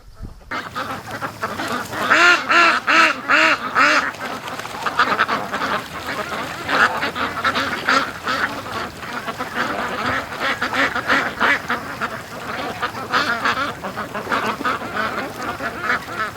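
Many ducks quack continuously in a noisy, overlapping chorus near a shoreline with a predator around, loud and close, with harsh repeated calls throughout.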